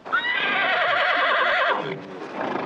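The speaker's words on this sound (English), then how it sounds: "All them range horses just fight." Range horses neigh loudly and close, one long quavering whinny and then a shorter one, with scuffling as they fight.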